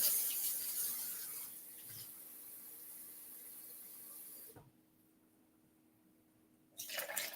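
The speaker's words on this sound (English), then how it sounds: "So I've got my warm water over here coming out of my sink." Warm water runs steadily from a kitchen sink faucet as a broad, even hiss for several seconds, then cuts off into near silence before a brief burst of flow returns at the end.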